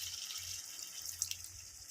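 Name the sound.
water being added to pepper chicken pan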